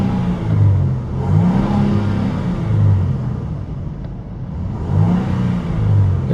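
A 2015 Range Rover HSE engine revs a couple of times, each rise swelling into a smooth rumbling whir and easing back, moderately loud and close, with no one speaking.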